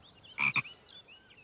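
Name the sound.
frog croaking in a cartoon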